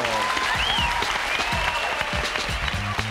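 A studio audience on a game show claps in a steady burst, with light overlapping voices.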